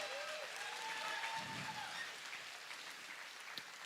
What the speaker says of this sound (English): we'll give you a round of applause